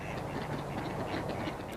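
Mallard ducks quack in a short outdoor spring scene, giving a busy, continuous chatter of nasal calls over a broad background hiss.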